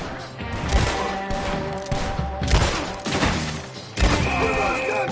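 Heavy gunfire comes in repeated loud bursts of overlapping shots and crashes, several sharp hits cutting through a dense, noisy battle din.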